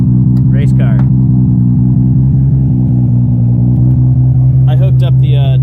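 A Toyota Supra race car engine idles loud and close in a steady, lumpy rumble, with brief higher-pitched revs near the start and again at the end, and someone talking over it.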